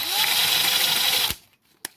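An improvised drill-powered apparatus spinning against sandpaper clamped in a vise, a loud steady grinding whine that holds for over a second, then cuts off abruptly with a brief clunk after a short pause.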